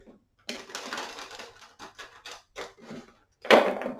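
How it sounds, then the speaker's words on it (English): Tarot cards being shuffled up close, a run of quick papery riffling bursts with short pauses and a louder flurry at the end, with no one speaking. "Let me shuffle this a little bit more."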